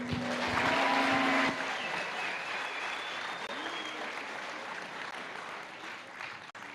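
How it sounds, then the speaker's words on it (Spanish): A church congregation at a Bible seminary breaks into strong applause, loud and dense at first, then easing to a steadier patter with faint voices mixed in. "Con fuertes aplausos."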